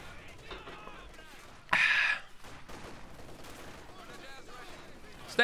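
Battle sounds in Company of Heroes 2 include a sudden loud burst of rapid gunfire lasting about half a second, over constant low rumbling and scattered distant shots, with a commentator talking throughout.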